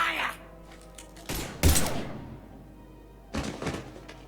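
Gunfire rings out in the game Mass Effect 3, heard as a few heavy thudding shots in short bursts with a punchy close impact and quieter gaps between them.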